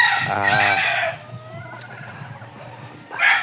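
A young stag rooster about five months old crows once in a backyard chicken coop, a close, drawn-out call followed by quieter clucks and a brief second call.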